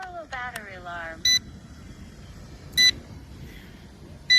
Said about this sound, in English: Battery alarm.